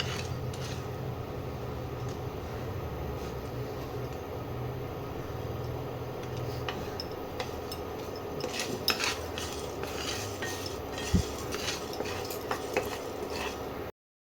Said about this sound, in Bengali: ড্রাই ফ্রাই প্যানে এটাকে আমি ভেজে নিচ্ছি